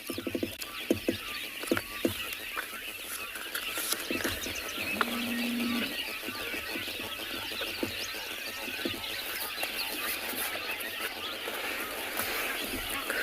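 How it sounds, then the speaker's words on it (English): Many birds calling and chirping together at a watering hole in South Africa, a busy layered chorus with a steady background hum and occasional sharper calls. "lots of birds calling."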